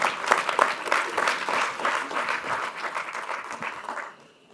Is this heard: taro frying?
no